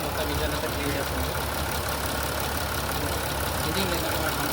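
A Mercedes-Benz 4Matic engine runs steadily while decarbonization cleaning gas is fed through its air filter, a constant dense mechanical drone with no pauses.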